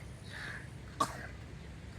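A single short cough rises over quiet outdoor background noise in a mango orchard, sharp and brief near the middle.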